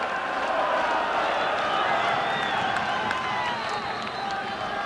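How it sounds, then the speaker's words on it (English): Capacity football crowd at Stark's Park, Raith Rovers against Celtic in August 1995, a dense steady roar of voices and cheering filling the stadium throughout, loud and continuous with no single voice standing out. "A new league season starts with a capacity crowd here at Starks Park"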